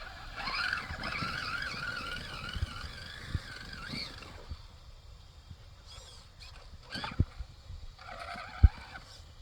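A Traxxas Summit 4076 RC truck with a brushless conversion and upgraded steering servo driving on a night run, its motor giving a steady whine and rumble with scattered crunches and clatter over rough ground.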